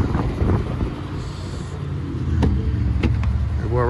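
Wind buffeting a microphone outdoors beside a truck, rumbling low gusts that swell and fade, with faint traffic or engine hum underneath and brief crackly bursts.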